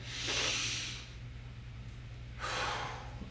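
Two deep, slow breaths taken during a stretch, each a long airy hiss lasting about a second, close and fairly loud over a low background hum, with a quiet pause between them.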